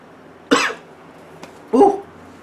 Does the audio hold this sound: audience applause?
no